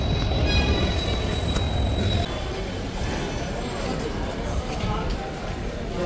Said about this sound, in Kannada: ಇದೇ ಟ್ರೈನ್ ನಮ್ಮದು ಬಂದು ನಿಂತೈತೆ